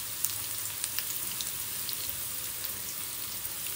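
Onion bhaji fritters frying in oil over a medium flame, giving a steady close sizzle with scattered crackles and pops throughout, no talking.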